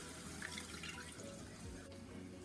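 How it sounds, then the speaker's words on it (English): Water is poured into a saucepan set over medium heat for key lime syrup, a soft, continuous splashing stream that stays faint and steady for a couple of seconds with no talking. "We're going to add in a half a cup of water"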